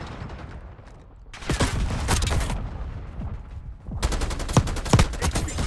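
Bursts of rapid automatic gunfire from a video game firefight, with two dense volleys of fast cracking shots separated by a quieter lull, fairly close and loud.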